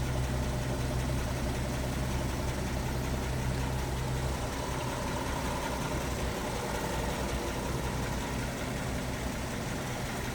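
A 1941 Chevrolet 216 cubic-inch six-cylinder engine idles smoothly and quietly nearby, a constant low hum that eases slightly partway through, with no talking.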